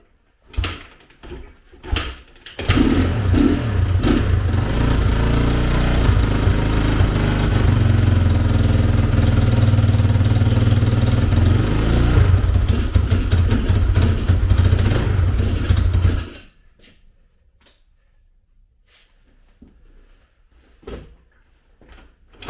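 2000 Honda XR200R dirt bike running for the first time after a rebuild, with a few sputtering catches before the engine fires and holds a loud, steady idle for about fourteen seconds, then cuts out, leaving scattered clanks.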